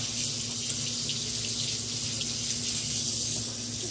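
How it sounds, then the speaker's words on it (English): A running tap pours a steady, bright hiss of water into a sink as an object is rinsed beneath it, close and continuous for a few seconds with no speech. "Now I'm going to rinse it so you can see the"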